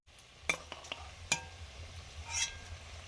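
Potato pieces fry in a pan for biryani, giving a soft, faint sizzle broken by a few sharp clinks and scrapes of a utensil against the pan.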